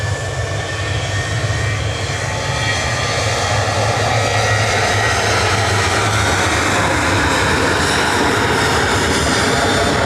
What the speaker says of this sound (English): Departing on 23 left, JZHK is going to Skiathos with flight